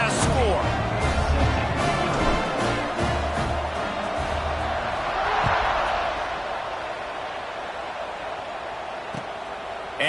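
Football stadium crowd at a college game between Cal and USC, a broad steady murmur and roar that swells briefly midway and then eases off, with an announcer talking over it.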